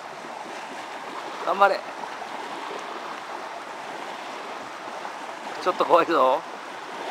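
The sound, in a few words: ocean waves breaking on a dog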